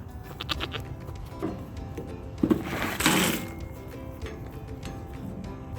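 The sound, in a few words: goats bleating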